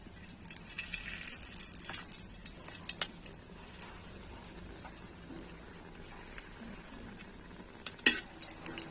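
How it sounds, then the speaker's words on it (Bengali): Dried red chillies, bay leaf and whole cardamom sizzle as they hit hot mustard oil in a pan, a steady high crackling hiss with scattered pops and a sharp clatter near the end, close and unaccompanied by talk. "এর মধ্যে ফোড়ন দিয়ে দেবো শুকনো লঙ্কা, তেজপাতা আর গোটা এলাচ"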